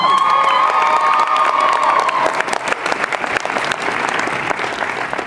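Crowd at a Katsucon cosplay contest claps and cheers loudly, with whoops and high shouts riding over sustained applause that fades slightly toward the end.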